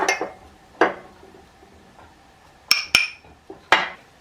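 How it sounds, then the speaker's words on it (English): A whisk or spoon knocks against a bowl while an ice cream base mixture is mixed, giving a handful of sharp, close clinks and taps spaced irregularly with quiet gaps between. "you want to whisk this in because the whole goal is to not have lumps"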